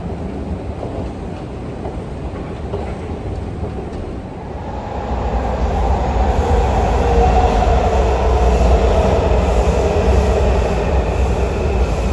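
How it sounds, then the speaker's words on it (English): Train running on rails near Washington DC, a continuous rumbling roll that grows louder and heavier midway, steady and close with no talking. "After a little choo-choo-choo train ride."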